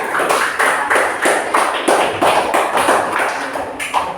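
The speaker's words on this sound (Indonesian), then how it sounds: "Tepuk tangan untuk kelompok 2 anak" A classroom of children claps for a group of pupils, a dense, loud, steady patter of hands with rhythmic surges running throughout, no voices over it.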